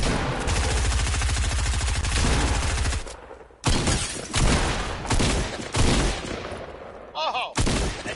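Rapid bursts of automatic gunfire and volleys of shots in the Fortnite battle royale video game, loud and close, with brief pauses between exchanges and a short break near the middle.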